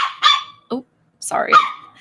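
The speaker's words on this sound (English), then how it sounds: "my puppy's flipping out." A puppy barking sharply at close range, three quick yips and barks in about two seconds, loud and with no talk over it.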